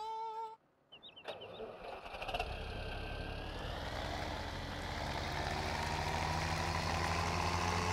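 A Massey Ferguson tractor engine in Farming Simulator 17, heard starting after a few short beeps and clicks, then settling into a steady, loud diesel idle that hums on evenly to the end.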